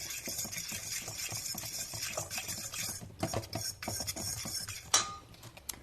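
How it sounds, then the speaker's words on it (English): A fork works chicken pieces through a coating in a bowl, giving a close, quiet run of scraping and rubbing strokes with light clinks of metal on the dish, and no talking. "I think I'll get a fork to dredge that chicken in there with"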